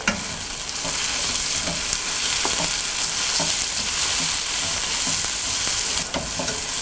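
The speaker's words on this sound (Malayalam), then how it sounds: "കറിവേപ്പില എന്നിവയിട്ട് വഴറ്റുക." Onions, green chillies, garlic and curry leaves sautéing in a hot pan for a Kerala duck dish, giving a steady loud sizzle broken by scattered scrapes and clicks of stirring.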